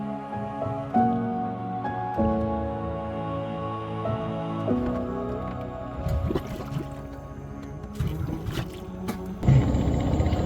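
A boat motor hums steadily on a river in Laos, joined by splashing and clattering noises in the latter part.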